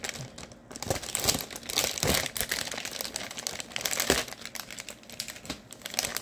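A flattened plastic mail package being cut open across the top, close crinkling and rustling plastic with short crisp snips and crackles, no talking.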